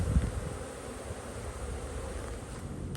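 Honeybees buzzing around relocated hives on a farm, a steady low hum of many insects close by, with a faint windy rush underneath and no speech.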